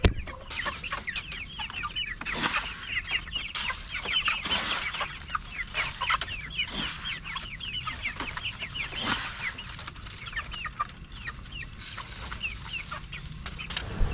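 Chickens and chicks cluck and chirp throughout in a backyard coop, their busy overlapping calls steady and close. There are a few louder squawks and no talking.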